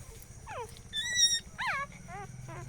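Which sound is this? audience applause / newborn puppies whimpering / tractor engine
newborn puppies whimpering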